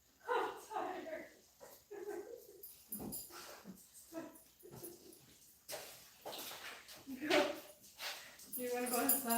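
Indoors at home, dogs whine, yip and bark in short bursts while a person talks over them.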